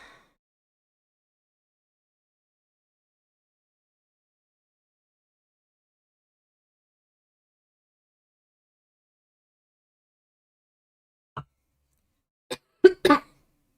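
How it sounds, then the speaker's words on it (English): After a long silence, a few short coughs come in a quick cluster near the end, close and fairly sharp. "I should really mute when I'm coughing."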